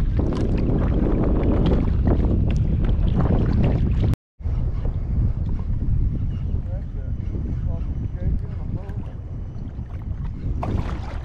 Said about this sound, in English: the wind has not let up at all